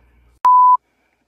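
A single clean electronic phone tone sounds once for about a third of a second after a faint click, then silence; no talk.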